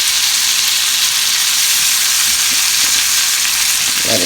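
Pork chops frying in garlic butter in a pan, a loud, dense, unbroken sizzle with fine crackling throughout, close and steady with no talk.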